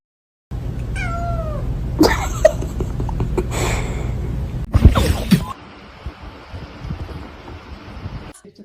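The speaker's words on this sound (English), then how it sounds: "Look at this little kitten. Hey. Oh, did she say hi?" A small kitten meowing close by, a few thin rising mews early on, followed by rustling, handling noise and breathy wind against the microphone.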